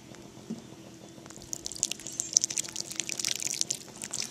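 Water trickles and splashes onto freshly sown melon seeds in a vegetable garden bed, soft and close, growing busier and more spattering after a quiet opening.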